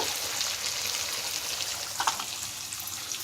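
Asafoetida sizzles in hot frying oil for a Telugu temple-style prasadam, a steady close hiss with a brief crackling burst near the end.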